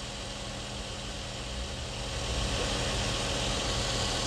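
A 2.7L V6 all-aluminum engine with a cylinder 1 fault running at idle, a dense steady rumble that grows slightly louder partway through, close and continuous.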